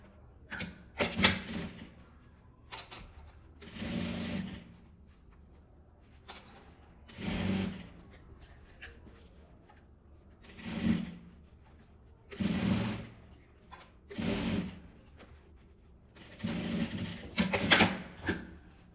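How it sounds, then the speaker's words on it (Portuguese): Sewing machine stitching a seam all the way around a small fabric coin purse with lining, running in several short bursts of rapid mechanical whirring separated by quiet pauses. "E vou passar uma costura em volta todinha."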